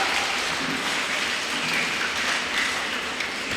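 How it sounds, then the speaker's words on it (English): Steady applause at a kindergarten (UKG) graduation day at Bethany English-medium school fills the room, dense, even clapping from a seated crowd that holds constant for several seconds. "Claps go."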